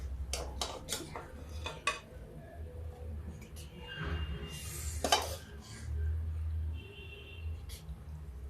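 Eggplant curry in yogurt gravy being served onto a plate in a home kitchen, with a run of clinks and scrapes of a spoon against dishes and a pot, mid-loud and close, and someone talking over part of it.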